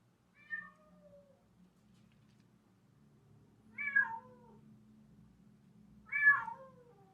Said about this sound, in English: There's a cat outside my window.